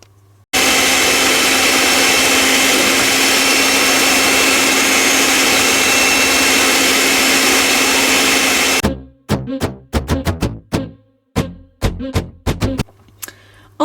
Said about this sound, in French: Ensuite vous allez poursuivre donc le mélange avec le batteur électrique